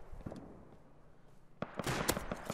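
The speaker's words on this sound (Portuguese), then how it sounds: "E tem um cara atirando nele." Gunfire in the survival video game Rust: after a quiet stretch, a sudden cluster of sharp, loud shots cracks out in quick succession over the second half.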